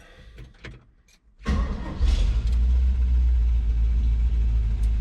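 A 1968 GMC truck engine cranks briefly, then catches and settles into a loud, deep, rumbling run that stays steady and close after the start.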